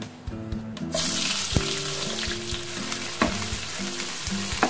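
Cumin seeds hit two tablespoons of hot oil in a frying pan for dal, setting off a loud, steady sizzling hiss that starts about a second in and continues, with a faint low tune beneath.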